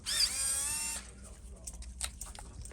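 A power tool loosening grub screws at a locksmith's workshop, a short whining buzz lasting about a second, followed by quieter clicks and handling noises.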